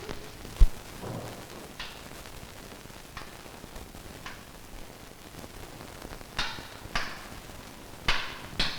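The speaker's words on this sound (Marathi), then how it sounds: "अहो खुंटी ठोकतोय." A peg is hammered into a wall inside a large house, with one sharp loud knock followed by several lighter, spaced taps over a faint background hiss.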